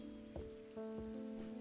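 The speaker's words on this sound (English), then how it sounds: "Rain again? Soaked to the bone before I'm halfway through my rounds." Rain in the video game Strange Antiquities, a quiet steady patter of drops on a surface with a low sustained hum underneath and a few soft knocks.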